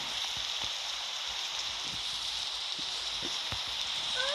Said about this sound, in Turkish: Yağmur ya.